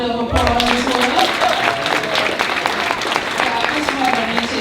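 An audience at a World Tai Chi Day gathering applauds an older participant, the steady clapping heard under an announcer's voice through a loudspeaker.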